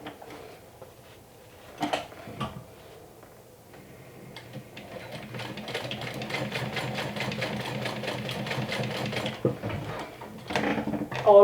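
Sewing machine stitching fabric in a rapid, even ticking run that builds after a few handling clicks, pauses briefly, then resumes close and clear.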